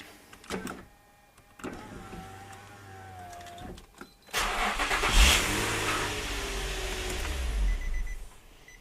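Car engine cranks in a couple of short bursts, then catches and starts at about four seconds, settling into a loud steady idle with a brief rev. An earlier whir sounds like a power window.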